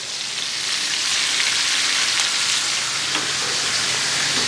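Chicken pieces sear in a non-stick pan for coq au vin, giving a steady, loud, close sizzle and crackle of frying fat that holds evenly throughout with no voices.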